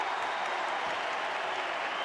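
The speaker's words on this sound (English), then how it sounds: "But you can hear the crowd" Basketball crowd at a FIBA AfroBasket game cheering and applauding in a large arena, a steady, dense roar of clapping and shouts lasting throughout without pause.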